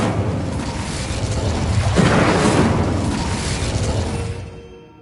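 A fire spell explodes in the Hogwarts Legacy video game, a loud, full boom that swells to a peak and holds as a roaring burst before tapering off near the end, with no speech over it.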